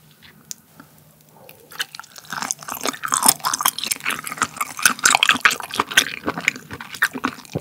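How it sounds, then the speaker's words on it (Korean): Baby octopus (kkolttugi) sashimi is chewed close to the microphone with wet, squelching bites and crunchy smacking that grow louder and busier after a quiet start, with no talking. "짬뽕 여기다가 꼴뚜기 아주 그냥 가득 산처럼 쌓아서 만들어 먹어보도록 하겠습니다"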